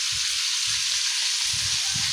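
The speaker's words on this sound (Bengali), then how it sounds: "রোস্ট ভাজার সময় কেমন বিপদ দিচ্ছে, তেল চিটটা ইয়ে পাথর তো বড় করছে।" A roast frying in spitting hot oil, a steady loud sizzling hiss with crackling pops throughout, close up, alone with no talking.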